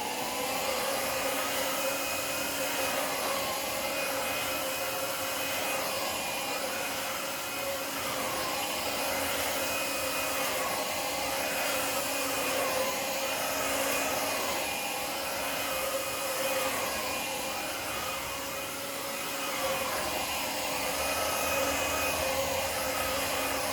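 A Shark Freestyle SV1106 cordless stick vacuum runs continuously at close range, its motor holding a steady, high-pitched whine and airy rush for the whole stretch with no talking.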